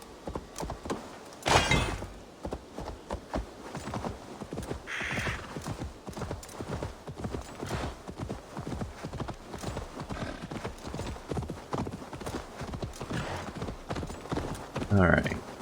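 Rapid clip-clop of horse hooves galloping steadily throughout in Assassin's Creed Valhalla, close and continuous, with a whinny and voices over the rhythm.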